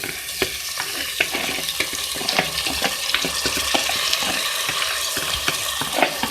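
Half a kilo of washed rice fries with onions in a pot, with a close, busy sizzle and frequent scraping, clacking stirs in an uneven rhythm throughout.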